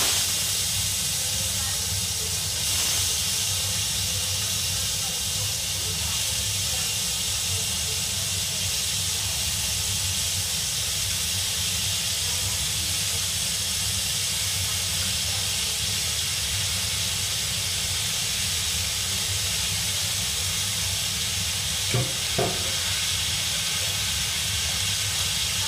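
Baby potatoes fry in hot oil in a kadai with a steady, loud hiss that runs throughout, with occasional faint clinks near the end.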